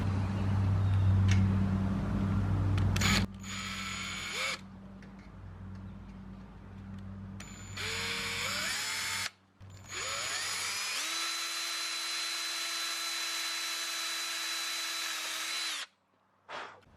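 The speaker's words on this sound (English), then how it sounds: "we're going to drill a 1/8 inch hole here" A power drill whirs in several bursts, revving up and down as it bores a 1/8 inch hole in a truck topper's metal window frame, with short pauses between runs and no talking.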